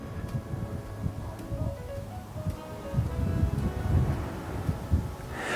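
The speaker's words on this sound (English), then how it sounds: "Just wait for the wind. Stop being windy." Gusty wind blows across an outdoor heritage site beside a visitor centre and a ventilation shaft, a low rumbling buffet on the microphone with faint rustling.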